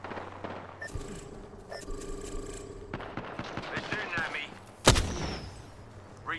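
Gunfire in an Apex Legends ranked Arenas match on the Vantage character: quick bursts of rapid shots build up and end in one sharp, loud crack, heard over a busy game mix.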